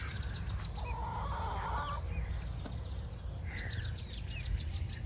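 Hens in a backyard homestead coop at night give off soft, overlapping clucks and murmurs against a steady low background hum, faint and continuous throughout.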